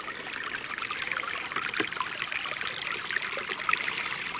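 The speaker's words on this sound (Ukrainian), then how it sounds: "справжнє джерело, яке б'є з високого берега" Steady trickling and bubbling of spring water flowing out of a high bank, continuous and fairly close, with no voices.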